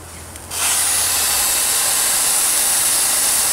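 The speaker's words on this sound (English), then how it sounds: "And you can open the boiler blow down." Steam hisses hard and steadily from the boiler blow-down of a 14xx locomotive in a train simulator game, a loud, sustained rush that starts abruptly after a brief quiet moment.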